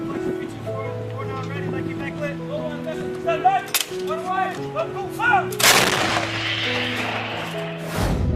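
M777 Howitzer artillery firing in the Garena Free Fire game: a few heavy booming blasts at irregular intervals, loud against continuous background music with voice-like melodic sounds.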